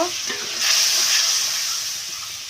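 Spice paste with salt sautés in a pan for Bengali pabda fish curry, giving a steady close sizzle that swells louder about halfway through and holds as a bright hiss.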